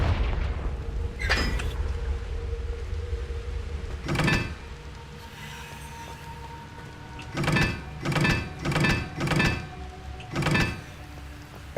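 Confringo blasting spells going off in Hogwarts Legacy: a burst near the start, another a few seconds later, then a rapid run of four blasts and one more, each a sharp, loud boom over a low, steady game backdrop.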